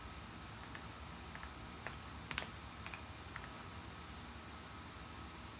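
A handful of faint, scattered key presses tap on a tactile computer keyboard, isolated clicks against a quiet background hiss, with no voices.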